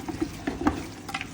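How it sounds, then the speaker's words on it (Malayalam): Camel meat being stirred with masala in a pan, with a spoon scraping and clacking in short irregular strokes over a low sizzle, close and fairly quiet. "നന്നായിട്ട് മിക്സ് ചെയ്യാം."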